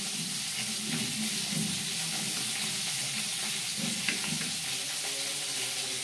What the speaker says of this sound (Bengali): মাছ ভাজতে ভাজতে একটা মশলা আমি তৈরি করে নেব